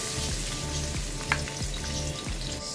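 Garlic sautéing in hot oil as a home cook prepares a Filipino-style tom yum soup, a steady close sizzle with rhythmic low stirring scrapes about every half second, no talk.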